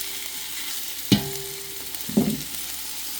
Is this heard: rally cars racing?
no